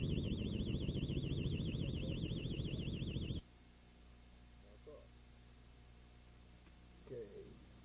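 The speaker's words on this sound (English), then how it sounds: "As soon as I open the door," A car alarm set off by opening the door blares a loud, fast warbling siren for about three seconds, then stops abruptly, leaving a quiet hum with a few faint clicks and knocks.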